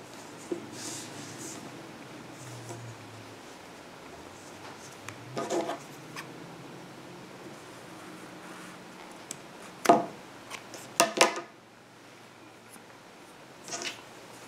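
Scissors snip loose yarn ends on a crocheted beach bag, giving a few faint, brief clicking cuts clustered together against a quiet room background, with no speech.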